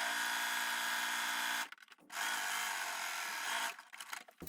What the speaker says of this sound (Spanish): Lo cosemos a distancia de prensatelas